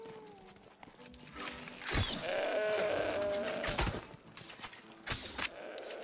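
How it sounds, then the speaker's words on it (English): A sheep bleats loudly and close by in a long wavering call, with shorter bleats and rustling around it. "That's a sheep, and that's a sheep."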